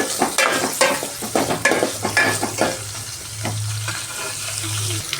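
Curry leaves crackle and sizzle in hot ghee for ghee coriander rice, starting with sharp popping bursts and stirring clinks that settle into a steady, loud frying hiss.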